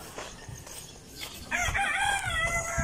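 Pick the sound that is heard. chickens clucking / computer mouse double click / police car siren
chickens clucking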